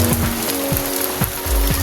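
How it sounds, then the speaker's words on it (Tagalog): Steady rain patters on a surface at a farm, a dense hiss with scattered drips and a low hum underneath, no one speaking. "inabutan tayo ng ulan ngayon."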